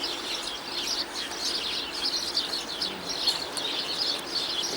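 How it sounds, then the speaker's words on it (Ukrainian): A common blackbird sings near a winter bird feeder in Kyiv, Ukraine, with a series of faint, high, repeated chirping phrases over quiet background noise. "саме чорний дрізд, якого часто плутають зі шпаком"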